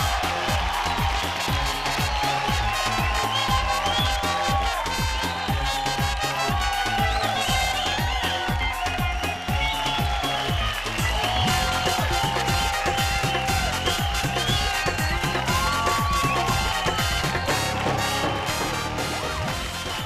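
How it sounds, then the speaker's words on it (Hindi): Audience applause and cheering on the Indian TV dance competition Dance India Dance, mixed with loud, steady show music that carries on without a break. "जोरदार तालियां होगा"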